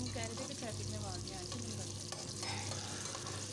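An onion fries in a cup of oil in a pan with steady crackling sizzle and occasional stirring scrapes, faint and close.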